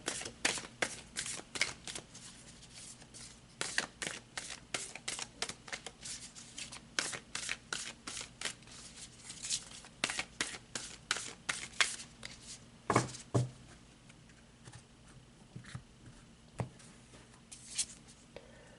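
Tarot cards being shuffled by hand, repeated riffling and slapping bursts in an irregular rhythm, close and crisp, with quieter gaps between flurries and no talk.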